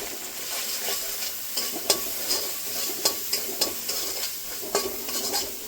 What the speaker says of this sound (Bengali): আরো কিছুক্ষণ মশলাটা কষিয়ে নেব।